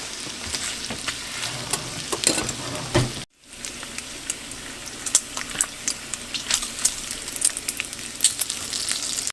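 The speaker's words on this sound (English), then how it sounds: "the bacon is starting to steam" Bacon sizzles and crackles steadily in a hot pan, with dense popping spatters and a brief silent gap partway through.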